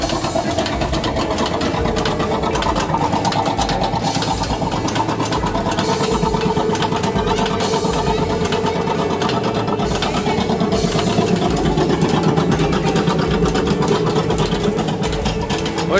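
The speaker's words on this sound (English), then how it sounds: "I'm on the tractor" Tractor engine pulling a ride around a pumpkin farm, a steady, fairly loud rumbling drone that runs the whole time with faint voices mixed in.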